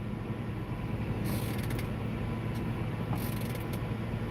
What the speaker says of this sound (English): My seat creaking?